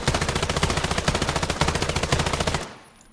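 Rapid, sustained machine-gun fire from an automatic weapon in the Islands of Nyne video game, evenly spaced loud shots for about two and a half seconds before cutting off into quiet.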